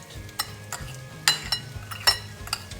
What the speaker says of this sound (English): we'll give it a little stir so that it's nice and mixed